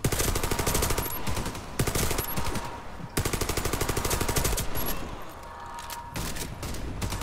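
Sustained automatic gunfire in a cooperative PVE shooter on the Pripyat map, dense rapid bursts running nearly continuously with brief gaps, loud and close.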